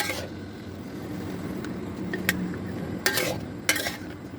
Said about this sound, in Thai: แต่ตอนนี้ผัดให้ฟักทอง อ่อนก่อน